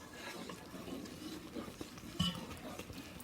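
Oreo cookie fudge mixture boiling in a pot while being stirred, heard as soft scraping and clinking of a utensil against the pan with faint bubbling, quiet and close, with no talk.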